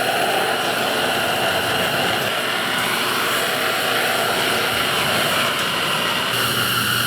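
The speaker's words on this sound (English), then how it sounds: "Let's get the heater going." A shop heater running in a garage workshop gives a loud, steady broadband roar of blowing air that stays unchanged throughout, close by and without pauses.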